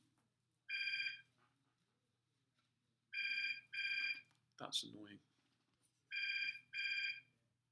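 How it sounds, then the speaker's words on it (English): A telephone rings in paired electronic trills, repeating three times, fairly clear and close. A person briefly speaks between the rings. "The phone rings, you've got to answer it."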